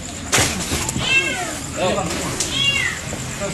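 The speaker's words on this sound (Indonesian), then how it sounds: "Seekor kucing dilaporkan terjebak di sela pinggiran sungai di Jalan Bali, Matraman, Jakarta Selatan." A cat trapped in a gap at the edge of a river on Jalan Bali, Matraman, South Jakarta meows loudly and repeatedly, with two drawn-out cries among thumps and background noise.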